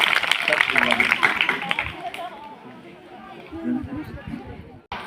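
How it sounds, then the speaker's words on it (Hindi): Students clap together at a school gathering, a dense, bright patter that fades after about two seconds into low chatter and murmuring voices, with a single sharp knock near the end. "ताली बजाइए भाई"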